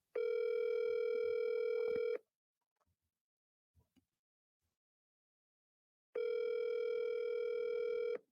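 Outgoing phone call ringing while waiting for an answer: two loud, steady electronic ring tones separated by about four seconds of near silence, heard alone.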